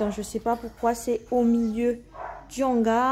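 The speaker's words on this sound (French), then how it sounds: "je ne peux pas empêcher un chien d'aboyer." A dog barks repeatedly indoors, several sharp yips and barks in quick bursts, loud and close, while someone speaks French over them.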